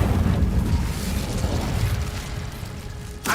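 The Incendio fire spell bursts out in Hogwarts Legacy, a loud whooshing blast that quickly fades, ending with a short sharp crackle.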